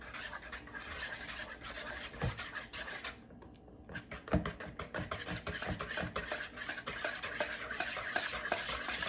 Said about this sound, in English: Make sure to mix it very well.